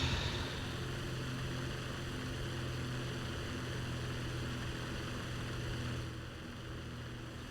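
A PBJ-1H twin-engine propeller bomber flies in the video game War Thunder, producing a loud, continuous engine drone with steady propeller hum that eases slightly toward the end.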